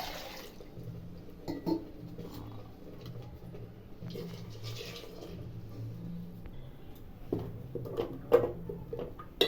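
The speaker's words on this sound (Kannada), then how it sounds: "ಮಿಕ್ಸಿ ಜಾರ್ ತೊಳೆದು ಸ್ವಲ್ಪ ನೀರು ಹಾಕ್ತೀನಿ" Water splashes and trickles into a mixer jar, with soft clinks and a few louder sloshes near the end.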